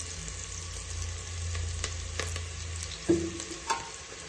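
Onions fry in hot oil for a double beans rice bath, a steady close sizzle and crackle broken by a few sharp clinks and scrapes of stirring.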